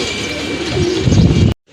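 Giribaz flying pigeons of a palla line coo and rustle close by, a steady cooing murmur building slightly louder before cutting off abruptly.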